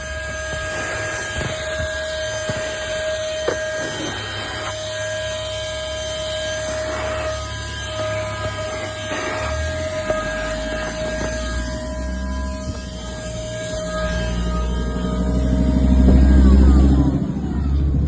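Wapasoo cordless vacuum running on its highest of three suction settings gives a loud, continuous whirring drone with a fixed whine, growing louder and deeper toward the end.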